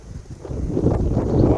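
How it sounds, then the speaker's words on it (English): Wind gusts buffet an outdoor shooting range, a low, steady rumble and microphone buffeting that builds louder after the first moments and stays strong, with no voices heard. "it's windy, so this may not be the best day to get out here and do this"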